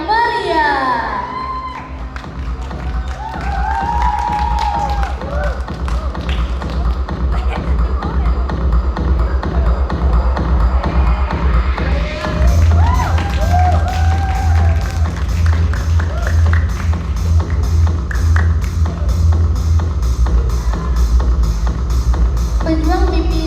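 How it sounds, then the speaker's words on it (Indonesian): A crowd in a hall at a talk show event applauds and cheers, with children's shouts mixed in and steady clapping throughout, all under loud, thumping music. "Beri tepuk tangan yang meriah."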